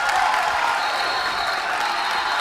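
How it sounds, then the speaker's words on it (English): Basketball crowd in a high school gym roaring and applauding after a fast-break basket, a loud sustained wash of cheering that fills the whole stretch. "The crowd goes wild"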